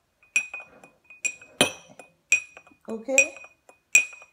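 A spoon stirs honey syrup in a glass, striking the side in sharp, ringing clinks about every two-thirds of a second, close and clear, with a brief spoken word near the end.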